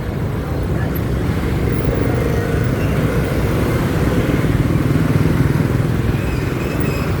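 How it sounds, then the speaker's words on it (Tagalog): Motorcycles and other vehicles pass in a busy Bagbaguin, Caloocan street, making a steady, dense roar of engines and traffic that continues without pause, with no talking. "Ayan daming motor."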